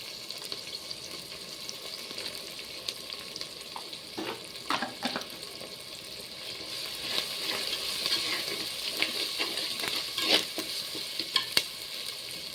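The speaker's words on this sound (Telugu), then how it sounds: "అల్లం వెల్లుల్లి పేస్ట్ వేస్తున్నాను." Ginger garlic paste frying in oil with tomato in a cooking pot, a steady sizzle with intermittent stirring scrapes and clinks, close and fairly loud.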